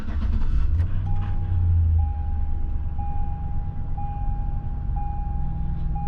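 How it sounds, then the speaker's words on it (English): A 2006 Chevy Silverado engine turns over and starts with a loud, low rumble, then settles into an idle while a dashboard warning chime beeps at a regular pace. "After you turn the key on and start the car up"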